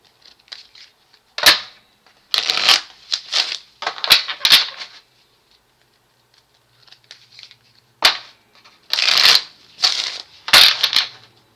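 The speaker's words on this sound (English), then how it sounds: "Trying to get a good shuffle." Playing cards being shuffled, a series of sharp riffling bursts and snaps in separate clusters with quiet gaps between, close and fairly loud, with no talking.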